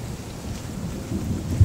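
Storm rain with thunder: a dense, steady hiss of rain with a low rumbling underneath, loud and close throughout, ending on a brief heavier thump.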